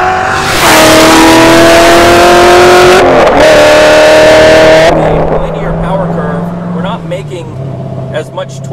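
A 1000 hp Hennessey Corvette Z06 with a centrifugal supercharger pulls hard through the gears, a loud rising whine and roar climbing twice with a shift between, then easing off to a lower drone as it backs off.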